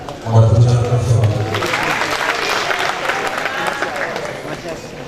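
An audience at a national patriotic slam poetry championship applauds, a broad wash of clapping rising after a brief low murmur and holding steady through to the end.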